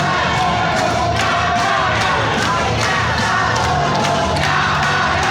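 A large crowd at a regency election debate in North Lampung cheering and applauding, a loud continuous roar of clapping and shouts filling the hall throughout without pause.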